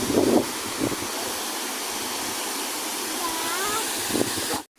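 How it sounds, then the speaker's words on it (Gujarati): Continuous rushing of flowing water near a temple fills the scene, broad and steady, with a brief faint tone and light wind buffeting near the end. "પાણી ખૂબ જ સરસ મજાનું વહી રહ્યું છે"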